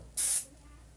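A short burst of white paint hissing from an airbrush, close and steady, lasting a fraction of a second over faint room noise.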